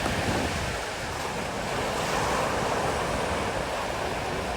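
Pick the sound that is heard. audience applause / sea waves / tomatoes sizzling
sea waves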